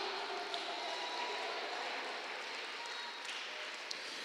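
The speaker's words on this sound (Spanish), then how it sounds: "Alguien le puede dar un mejor aplauso de pie al Señor en esta mañana" A church congregation, standing, applauds in a continuous dense wash of clapping that holds steady from start to finish.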